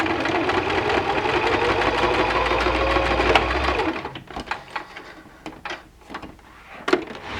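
A domestic sewing machine stitches a seam on a zippered fabric box pouch, a steady close mechanical whir for about four seconds before stopping, followed by a few light clicks and handling knocks.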